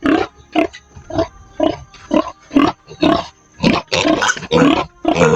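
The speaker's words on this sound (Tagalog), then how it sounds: "Maraming baboy." Pigs grunting in a steady series of short, loud snorts, close by, the grunts coming quicker and overlapping toward the end.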